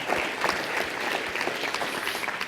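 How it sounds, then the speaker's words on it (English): A business-event audience applauds the event team, a brief, full burst of clapping from a room of people lasting a couple of seconds without speech. "I want you to give my team a round of applause"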